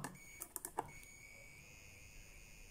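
A multimeter's continuity buzzer gives a few short, high electronic beeps in quick succession near the start, then a faint steady tone lingers over quiet background, during a TV graphics board repair.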